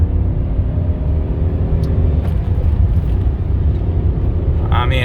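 A BMW E38 740i with a manual gearbox accelerates hard in third gear, a loud steady low engine drone and road rumble heard from inside the cabin, holding strong throughout with a brief click near the end.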